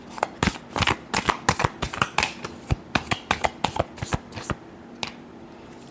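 A tarot deck is shuffled by hand close up, with a rapid series of crisp card slaps and riffles in uneven bursts for about five seconds.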